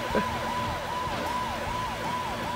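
A police car siren in the racing game Choro Q HG wails in a repeating rising-and-falling pattern, several quick cycles, loud over a low engine rumble.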